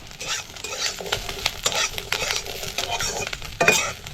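Ginger and green chilies sauté with garlic in a little oil for a spice paste. A spatula scrapes and stirs in uneven strokes over a close, lively sizzle, with occasional metallic clinks.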